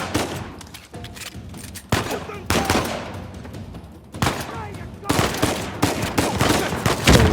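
Rapid bursts of tracer-round gunfire from a firefight in the video game Uncharted 4, loud, dense volleys that break off and resume several times across the stretch.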